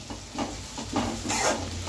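Hot oil sizzles and crackles steadily as an onion, tomato and green chili tempering is stirred, with a few soft scraping pulses through the brief stretch.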